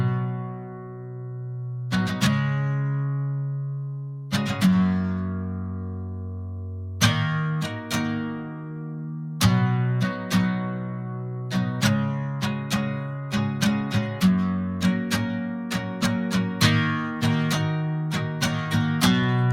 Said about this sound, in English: Some others, like a long chord here with a fill